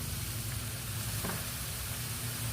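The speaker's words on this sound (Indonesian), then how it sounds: "Kunyit bubuk ini kita gongseng, kita tumis dulu." Turmeric powder being stir-fried in a pan for a Padang-style tilapia and long bean dish, a low, even frying hiss with a faint background hum, heard alone.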